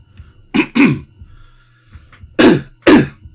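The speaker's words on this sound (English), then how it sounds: "can't stop coughing" A person coughs hard in two close pairs of harsh, explosive bursts, loud and near, with quiet gaps between them.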